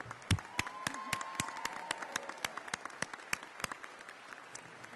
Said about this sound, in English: give a big round of applause for the Brunswick County Band